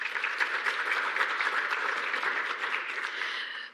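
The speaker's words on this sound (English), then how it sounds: "let's give a round of applause to the World Bank Group" A symposium audience applauds the World Bank Group in a dense, sustained wash of clapping that holds steady and tapers slightly at the end.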